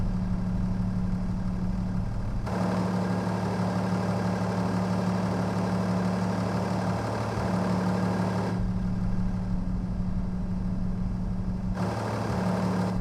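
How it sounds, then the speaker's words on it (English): A tractor engine idles continuously, a steady loud low rumble that keeps running without stopping. "The tractor didn't want to stop. The engine just kept on rolling and rolling."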